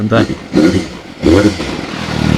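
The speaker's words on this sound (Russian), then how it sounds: "это сейчас у нас стоковый выхлоп" A Suzuki GSR 750 motorcycle on its stock exhaust gives a few short, fairly quiet engine blips, heard close up, with someone speaking over the sound.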